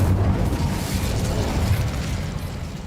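An Incendio fire spell cast in Hogwarts Legacy produces a steady, low, roaring rumble, like a burst of flame that holds for about three seconds and fades slightly toward the end.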